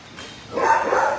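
A thin dog at an animal shelter gives a muffled bark amid a noisy kennel background, moderately loud and fairly close.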